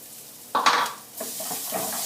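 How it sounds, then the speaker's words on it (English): Two tablespoons of garlic added to a hot pan with cumin seeds for masoor dal, a sharp sizzle burst on contact followed by steady frying and stirring scrapes. "So we're gonna add our garlic"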